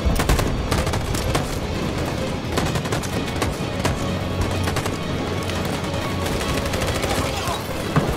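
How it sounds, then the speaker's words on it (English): Dense, continuous gunfire from a Detroit: Become Human firefight, with rapid bursts and scattered shots layered over a steady loud barrage throughout. "Cover fire!"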